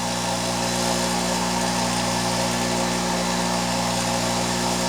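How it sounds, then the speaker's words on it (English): A Stanley bench grinder runs steadily with a Delta wheel dresser on the tool rest, producing a constant loud motor hum with a strong tonal whine and no variation or speech. "we'll use a Delta dresser on a Stanley grinder"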